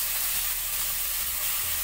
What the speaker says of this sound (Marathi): घेतलेली कैरी आपण या तुपात टाकायचे, स्लो गॅसवर हे भाजायचे।